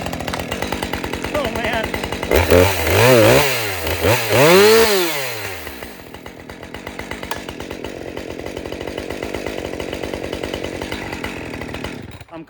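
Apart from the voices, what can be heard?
modern 545 chainsaw running and idling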